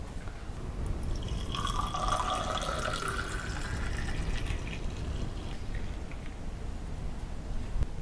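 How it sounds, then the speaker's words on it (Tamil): Watermelon juice pours into a tumbler as a close, steady liquid stream with a rising filling tone, followed by softer trickling and drips. "இப்போ நம்ம டம்ளரில் மாற்றிக்கலாம்."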